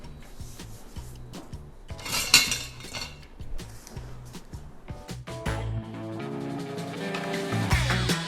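A spoon scrapes and clinks against a pan and ceramic ramekins as chicken pot pie filling is scooped and placed, with irregular close taps, rubs and soft thuds.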